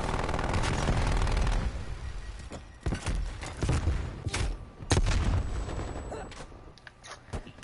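Gunfire in the video game Call of Duty Cold War, a loud rapid burst at the start followed by scattered sharp shots and booms that fade in and out, fairly close.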